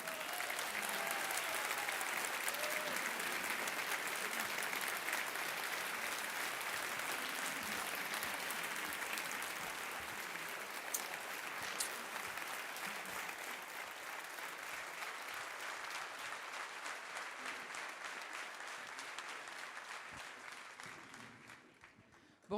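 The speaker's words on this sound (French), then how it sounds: "Je vous demande des tonnerres d'applaudissements pour Zoé Constantopoulou" A seated audience at a political speech in Lille gives a long, dense round of applause. The clapping stays steady and loud for about twenty seconds, then fades away toward the end.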